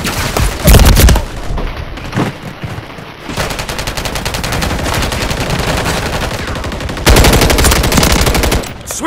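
Loud, sustained machine gun fire from the video game Call of Duty hammers in long continuous bursts, broken by short pauses and a heavy blast near the start.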